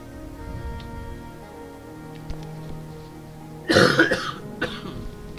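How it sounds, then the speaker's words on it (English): A single close, harsh burst of coughing from one person, a couple of rough hacks followed by a smaller cough, heard over a quiet background with faint ticking. "Goodness, I apologize for the coughing"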